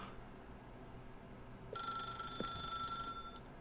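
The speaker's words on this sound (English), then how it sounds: "If you can truly place your faith in another, then pick up the phone." A telephone bell rings in The Stanley Parable video game, a bright repeating electronic trill that begins partway through and continues over a quiet room tone, with no one speaking.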